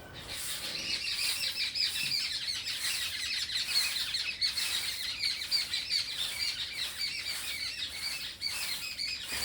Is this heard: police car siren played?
no